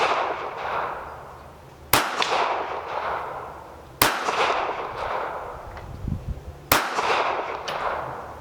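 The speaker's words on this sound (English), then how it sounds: "We'll go ahead and give it a couple shots." A KelTec PMR 30 semi-automatic pistol in .22 Magnum fires three sharp, loud shots spaced a couple of seconds apart outdoors, each crack trailing off into a short echoing decay.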